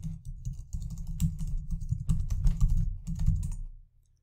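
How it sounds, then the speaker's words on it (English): Rapid close clicking of keys on a computer keyboard as a password is typed, a dense burst of keystrokes lasting a few seconds that stops abruptly, with no talking. "Then I need to type my password."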